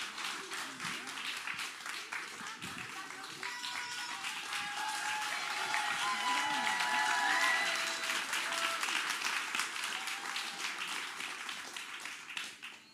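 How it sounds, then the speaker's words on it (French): A large audience claps steadily for several seconds at a closing ceremony, a dense wash of applause that swells slightly in the middle before easing off. "on vous invite vraiment à les applaudir, à les encourager"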